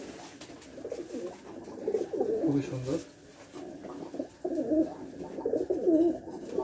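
Rajshahi Giribaz pigeons coo in repeated low, throaty phrases close by, rising and falling in waves while someone speaks over them.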